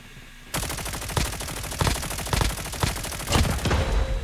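An AK117 assault rifle fires from the hip in the mobile shooter game COD Mobile, with rapid continuous automatic bursts of loud, close gunfire that run in a steady rhythm after a short quiet lead-in.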